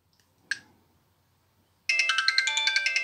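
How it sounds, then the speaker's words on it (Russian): A standard Sony Ericsson ringtone plays on a W302 mobile phone: after a brief beep and a short pause, a bright, repeating chiming melody starts and pulses in a steady rhythm to the end. "мой любимый рингтон Sony Ericsson, их стандартный"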